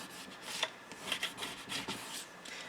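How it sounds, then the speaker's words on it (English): Firm rubbing strokes burnishing Stamperia paper stuck down on a craft chest, a soft rhythmic scraping repeated several times, close and quiet, with no voices. "give it a good burnish so that you know that it's stuck."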